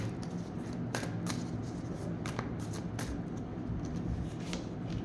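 Tarot cards being shuffled by hand, a soft continuous riffle with scattered crisp flicks and taps, close and quiet with no talking.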